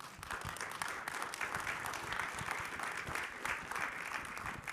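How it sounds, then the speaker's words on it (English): Conference audience applauding panelists after a session, a full, continuous round of clapping from a sizeable room, even and sustained from start to finish. "Let's everyone give them a round of applause."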